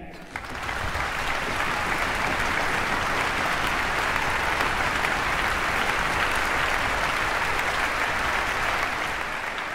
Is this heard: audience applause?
yes